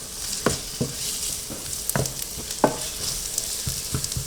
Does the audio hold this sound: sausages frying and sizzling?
yes